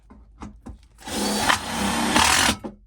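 A power drill driving screws into wood, with a few short taps and revs at first, then a sustained whirring drive of about a second and a half, loud and close, with no talk.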